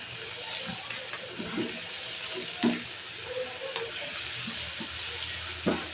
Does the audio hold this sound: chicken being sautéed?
yes